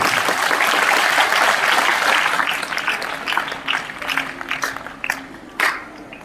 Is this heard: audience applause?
yes